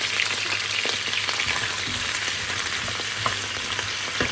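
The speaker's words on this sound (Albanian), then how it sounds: "Është nxehur vaj, bismillah hedhim patatet që i kemi pastru mirë." Cleaned potatoes tossed into hot oil for a potato and sujuk dish, giving a steady, loud broadband sizzle with faint crackles and a few soft stirring knocks, no voices.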